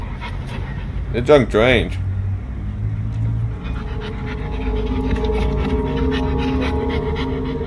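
Dog panting steadily in a tense horror scene, the breathing rumble continuous beneath a burst of high whining and a voice speaking over it.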